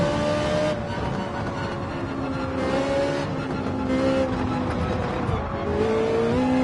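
Ferrari 458 race car engine in Gran Turismo 7 racing, the engine screaming at high revs with rising and falling pitch through gear changes and corners, sliding at the limit with tire noise and other cars nearby.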